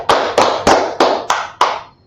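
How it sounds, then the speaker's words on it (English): Six loud, evenly spaced claps, each crisp and ringing briefly in a reverberant room, from a small brotherhood class clapping together in steady rhythm. "Let's first clap it up for the Most High God."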